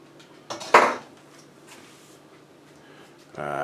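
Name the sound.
rummaging through kitchen utensils for a spatula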